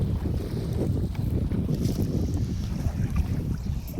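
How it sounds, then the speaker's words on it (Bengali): A steady low engine rumble of a fishing trawler boat on open water, with wind buffeting the microphone throughout. "আমাদের ট্রলার নৌকা এটা"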